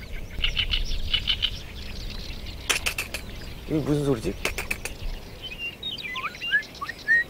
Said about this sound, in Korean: 여기 아마 종달새 같은데